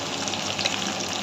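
Spice paste with ginger, chilli powder and tomato fries in a pan for a dried fish curry, giving a brief, steady close-up sizzle with soft crackles.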